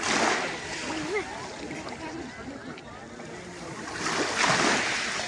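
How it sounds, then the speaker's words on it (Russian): Gentle sea waves wash onto a beach in Antalya, with a soft surf rush swelling at the start and again near the end, mixed with light wind noise. "И сегодня отличные такие, очень нежные волнушечки."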